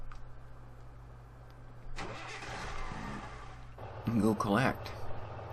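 An old truck engine in Farming Simulator 2013 hums at idle, then rises into a louder mid-pitched running drone with revving swells, while someone talks over it.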